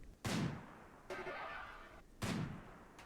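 Gunfire from a sniper rifle in the video game Rimworld, aimed at a turret: two loud, sharp shots about two seconds apart, with a thinner mechanical burst between them.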